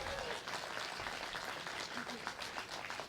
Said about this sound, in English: Let's clap for that one, yeah.